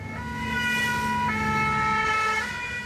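A French fire engine siren wails continuously as it responds to a motorway pile-up, its steady tones loud and close over the low rumble of road traffic.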